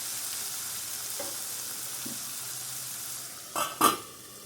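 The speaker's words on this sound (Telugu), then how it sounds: "ఈ ముక్కలన్నీ కూడా ఈ బటర్లో వేసి ఫ్రై చేసుకుందాం" Vegetable pieces fry in butter in a covered pan over medium flame, a steady soft sizzle for several seconds, then two brief louder clatters like a lid or utensil near the end.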